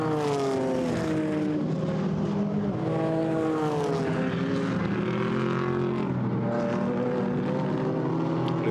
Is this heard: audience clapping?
no